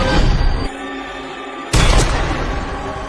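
A single loud rifle shot booms out in a tense film scene, cutting abruptly through a quieter stretch of ambient background noise.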